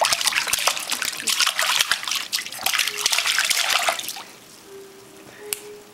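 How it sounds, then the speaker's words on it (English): Water splashes and trickles heavily for several seconds, then trails off into quieter dripping. A faint steady tone comes in near the end. "That's a bunch of water hitting the..."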